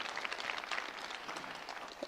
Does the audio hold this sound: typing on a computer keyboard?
no